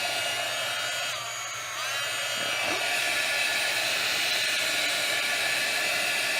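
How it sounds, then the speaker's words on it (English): A handheld embossing heat tool blows hot air to dry ink on a T-shirt, a steady close whirring hiss that holds throughout with a brief dip partway, nothing else over it. "I have a embossing heat tool"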